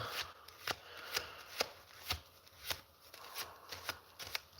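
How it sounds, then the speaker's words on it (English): A deck of playing cards is shuffled by a magician, close and quiet, with a steady series of sharp flicking snaps about twice a second. "I'm gonna shuffle the cards up"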